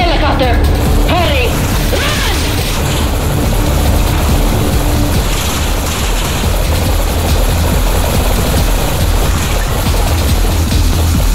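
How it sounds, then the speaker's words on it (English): Helicopter in the Roblox game The Hunt, a steady low rotor and engine drone running loud and continuous throughout, mixed with game noises and brief crash-like effects early on. "That helicopter will be a problem if you don't do something about it."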